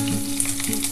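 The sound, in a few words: black cumin and garlic frying in oil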